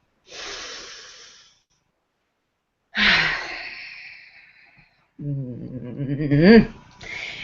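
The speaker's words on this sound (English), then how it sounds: "take a deep breath, and we'll just breathe that in" A person takes slow, deep breaths in and out at close range, three separate airy breaths with silence between them, the last one voiced and ending in a sigh.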